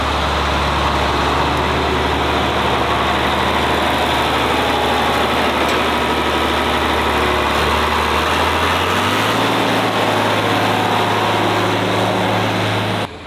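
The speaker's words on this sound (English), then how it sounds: "I'm gonna take this huge tractor" A large farm tractor engine idles with a loud, steady, continuous rumble and no talk. The engine note drops a little lower around the nine-second mark and then holds.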